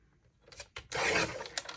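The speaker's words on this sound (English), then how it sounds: "So I'm going to trim these down 1/4 of an inch." Paper trimmed by a quarter inch on a paper trimmer while crafting ink-blended rainbow backgrounds, heard as a few short, quiet scraping and slicing strokes with brief gaps, rising into a louder sustained cut in the middle.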